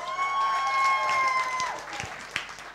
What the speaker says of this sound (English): Let's hear a big round of applause for Irene Balassas.